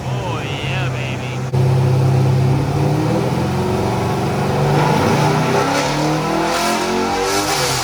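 An LS-swapped Nissan 350Z roars on a dyno, idling loudly before the revs jump sharply and hold at a sustained high drone with rising and falling pitch, very close.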